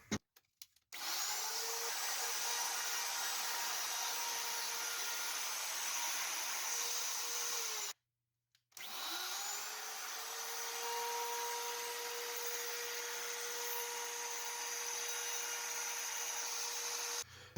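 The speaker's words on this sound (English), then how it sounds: "I was taking tiny bites until I got the right depth, and then I went a little wider each way" A wood router makes shallow cutting passes in a workshop, a loud steady high-pitched whine with a brief stop and restart midway, running alone without talk.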